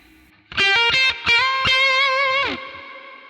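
Bridge pickup of a Glarry GTL budget Telecaster-style electric guitar at full volume, a quick burst of plucked notes followed by one long ringing note with slight vibrato that cuts off, bright and close.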